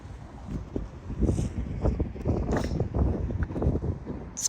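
Gusty wind blowing outdoors on a cold early-spring day, buffeting the microphone with a rough, uneven low rumble that surges and eases throughout.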